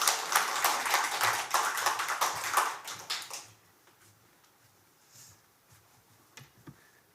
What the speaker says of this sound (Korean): 우리 큰 박수로 우리 환영해 주시면 좋겠습니다